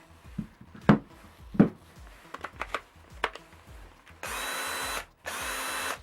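A Tekhmann i20 cordless drill running on a 4 Ah battery whirs in two steady bursts of about a second each near the end, following a few scattered clicks and handling knocks.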